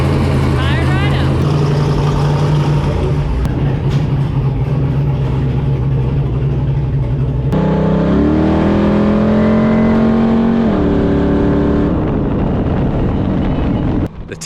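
A race Jeep built for King of the Hammers running on a test drive, its engine droning loudly and rising in pitch as it accelerates, with heavy wind buffeting and people talking over it.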